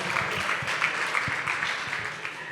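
A conference audience at a Dallas entrepreneurship event claps and cheers together, a steady dense wash of applause and crowd noise with scattered louder claps throughout, no talking over it.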